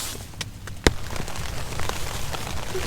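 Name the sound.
rain sprinkling on a hot tent at night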